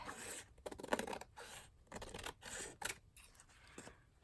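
Scissors trimming paper for an envelope collage, giving several close, crisp snips and cuts in irregular bursts with short pauses between them.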